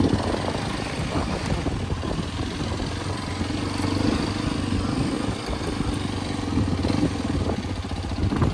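A Hero Xpulse 210 motorcycle engine holds a steady, moderately loud low drone under engine braking, continuous and even with no pauses.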